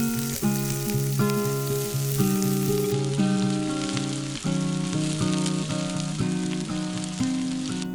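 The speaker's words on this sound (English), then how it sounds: "In about 2 teaspoons of oil, add ginger, garlic and the chopped onions. We saute that for about a minute." Ginger, garlic and chopped onions sauté in about two teaspoons of oil in a pan, a constant hissing sizzle running beneath loud melodic background music for the whole stretch.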